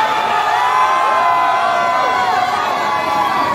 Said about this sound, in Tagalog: Sumigaw yung naniniwalang gwapo si kuya.